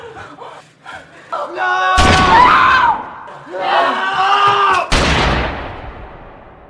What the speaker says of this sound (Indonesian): Nick sendiri pun ditembak di bagian perut hingga tak sadarkan diri.